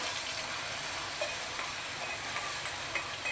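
Soaked semolina and milk are poured into caramelized sugar in a pan for halwa, producing a steady, hissing sizzle with light bubbling pops, close and fairly loud, with no talking.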